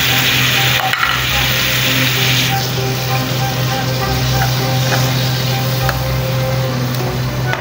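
Tomatoes and green chillies frying with spice masala and salt in a pan over browned onions, a steady loud sizzle with faint stirring and a low continuous hum underneath.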